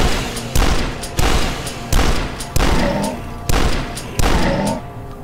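Pistol gunfire in the video game Dusk: about seven sharp, evenly spaced shots, each with a short booming tail, loud and close with no voices.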